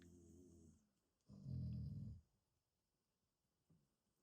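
Quiet, low snoring from dogs sleeping nearby indoors, a couple of drawn-out breaths with a louder one in the middle and a faint snort near the end.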